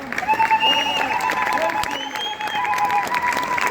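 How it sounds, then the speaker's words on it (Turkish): Crowd applause mixed with high, wavering ululation at the memorial for Hrant Dink, loud and close, with clapping and trilling voices sustained throughout. "Son kez alkışları ve zılgıtları barış güvercinleriyle birlikte burada"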